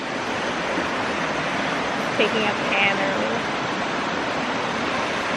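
Steady rushing of stream water along a muddy hiking trail on Kaua'i, a broad continuous wash close to the microphone, with a brief spoken line partway through.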